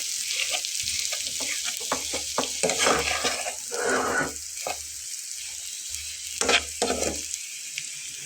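Potatoes being stirred and mixed in a frying pan while making a Bengali breakfast snack, with steady scraping and stirring strokes over a soft sizzle, close by and with no one talking.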